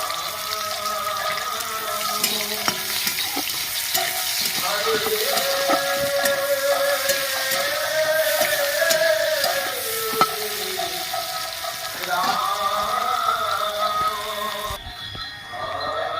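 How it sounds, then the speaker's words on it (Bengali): Chopped onion sizzles steadily in hot oil in a kadai, a dense, loud frying hiss with occasional stirring scrapes and faint tonal sounds running throughout. "কড়াইয়ের মধ্যে আমি পেঁয়াজ কুচি দিয়ে দিচ্ছি"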